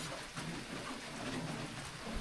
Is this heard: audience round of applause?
no